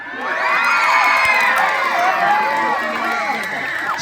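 A crowd at a gay beauty pageant cheers, whoops and shouts loudly, with overlapping high-pitched yells sustained across the whole stretch.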